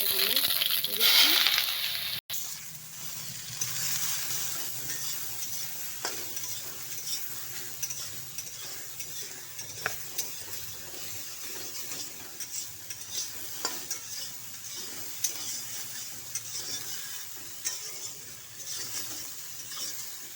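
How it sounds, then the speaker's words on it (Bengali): Chopped garlic and soybeans frying in mustard oil in a wok give a steady soft sizzle, broken by occasional scraping stirs and clinks of the utensil. "এখন দিয়ে দিচ্ছি তেল, সরষার তেল দিয়ে দিচ্ছি। সাথে এরকম রসুনটা কুয়া কুয়া করে নিয়েছি"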